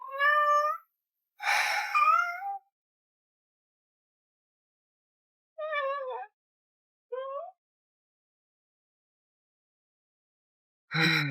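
A house cat meows several times, a long drawn-out cry and then shorter, quieter mews spaced seconds apart in a quiet room, with a sudden noise at the end.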